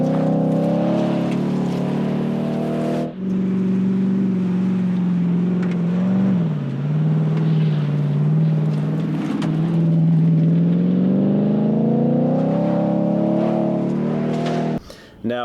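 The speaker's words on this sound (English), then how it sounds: "the Raptor R is obviously going to have the louder exhaust note" A supercharged 5.2-liter V8 in a 2023 Ford F-150 Raptor R sends a steady, loud exhaust drone through the whole stretch, with the pitch dipping and rising as the engine revs, close and continuous.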